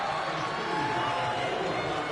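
Stadium crowd noise in a football video game, a steady dense roar of a home crowd filling the short stretch at constant loudness, with no distinct cheers standing out.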